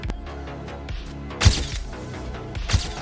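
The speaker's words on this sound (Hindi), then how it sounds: "जैसे कि मैं टाइप कर रहा हूँ कैमरा फ्लैश होने का साउंड इफेक्ट," An AI-generated camera flash sound effect: two crisp, loud clicking bursts with a short gap between them, set over a faint low hum.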